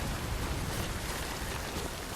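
Steady rain in the video game Death Stranding, a dense, even hiss of falling water holding at a constant level throughout with no voices.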